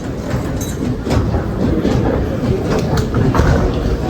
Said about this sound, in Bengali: এই যে আমাদের ট্রেন